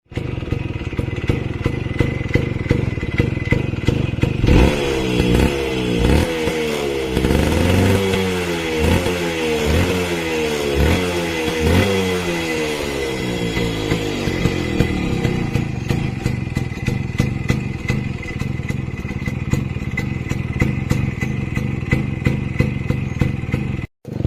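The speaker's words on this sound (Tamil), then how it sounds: "இப்போ இந்த வண்டியோட பீட்டை கேட்கலாம் வாங்க." A modified, fully restored Yamaha Max100 motorcycle runs close by, idling with a fast putter, then revving up and down in repeated climbing and falling bursts before settling back to a rough idle and cutting off, with no talking.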